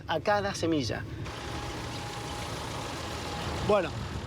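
A tractor's engine runs steadily, driving a seed planting machine through its PTO shaft; a low, even drone fills the middle stretch, with people talking at the start and end.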